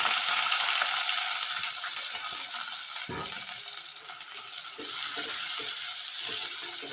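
Chopped garlic and onion fry in a pan with a continuous close sizzle and a few sharp stirring clacks, louder at first and then settling, with no voice.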